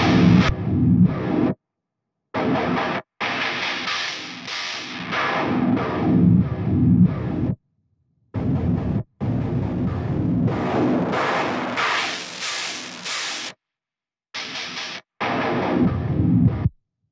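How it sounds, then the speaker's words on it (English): Electric guitar played through the STL Tonality Andy James amp plugin with a lo-fi filter effect, giving a narrow, saturated tone in loud distorted phrases separated by short silent gaps. "The lo-fi effect is simple but useful."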